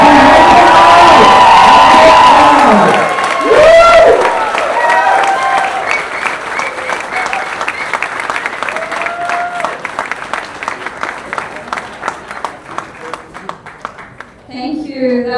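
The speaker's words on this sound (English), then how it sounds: "everyone stand up, the biggest chair, the biggest clap for these two beautiful people." Wedding reception guests burst into loud cheering and whooping, then settle into sustained rhythmic clapping that carries on for several seconds; a voice talks over the start, and the room stays lively and close.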